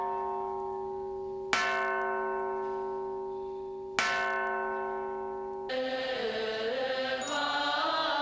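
A large temple bell at Fo Guang Shan in Taiwan rings to mark the monks' breakfast in the dining hall: two loud, ringing strikes with long sustained decays, followed by a third, fuller and more clashing strike.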